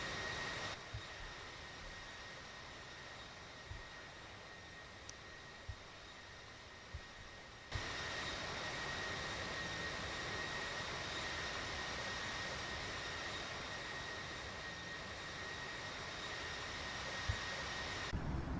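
Airliner jet engines in the Infinite Flight simulator drone steadily on a Speedbird departure out of London, a broad, constant roar that grows louder partway through and holds, with no talk.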